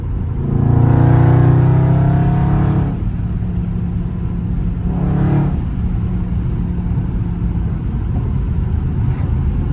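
A Dodge Scat Pack muscle car's big V8 revs in loud bursts, a strong opening surge followed by a second shorter blip and a steady rumbling idle between them.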